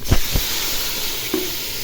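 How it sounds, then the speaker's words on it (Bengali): Spices for chicken biryani fry loudly in a hot pan, a constant close sizzling hiss broken by a few dull knocks of stirring at the start and a brief scrape later on. "এখন সব মশলা দিয়ে আমি ভালো করে মশলাটা কষিয়ে নেব।"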